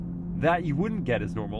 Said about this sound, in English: what you're hearing right now is a lot of tire hum from the 888s